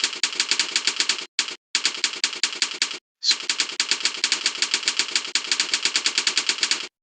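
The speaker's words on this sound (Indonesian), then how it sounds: "Langsung dia mengetik ya." Fast keyboard typing, heard as dense, continuous rapid clicking with two brief gaps, close and fairly loud, with no talking.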